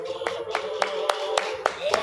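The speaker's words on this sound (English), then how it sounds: "A big round of applause for Mr." A single person claps steadily, about seven even claps, over a sustained hum and background voices in a hall at a national housekeepers convention.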